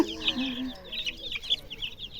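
Soft, busy clucking and peeping from a small group of chicks nearby, with short overlapping calls and no talking.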